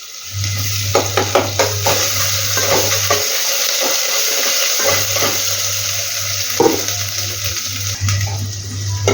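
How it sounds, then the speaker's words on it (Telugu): Spices and ginger frying in a pan, a steady loud sizzle with repeated stirring scrapes and clinks of a utensil against the pan, no one speaking. "ఇప్పుడు ఇందులో ఇవన్నీ మంచిగా వేయించుకోవాలి"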